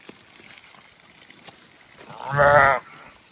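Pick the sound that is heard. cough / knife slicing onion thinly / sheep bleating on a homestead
sheep bleating on a homestead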